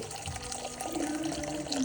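Warm water poured into a bowl for sourdough dough, a steady trickling splash lasting a couple of seconds, close and fairly loud, without talk.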